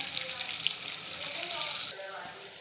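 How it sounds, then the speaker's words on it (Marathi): Coriander mutkule dumplings dropped into hot oil, a bright hissing fizz of frying close by that drops off sharply near the end, with faint speech underneath. "आणि तेलात मुटकोळे सोडले का आपण"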